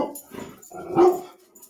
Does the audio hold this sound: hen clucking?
no